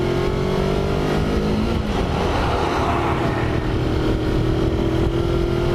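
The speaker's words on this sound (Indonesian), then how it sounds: "Mesin smooth, halus ya, karena kita masih pakai knalpot standar." A Kawasaki Versys X-250 motorcycle with its stock exhaust accelerates in second gear on an asphalt road, giving a loud, close, continuous engine drone that climbs steadily in pitch.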